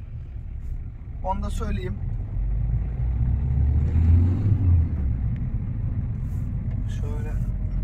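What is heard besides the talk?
Ford Courier Titanium Plus car driving off on road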